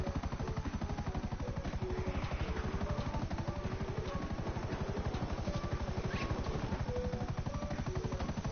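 A helicopter in GTA V Online gives a rapid, regular rotor chop that pulses loudly throughout, with brief higher game sounds layered on top.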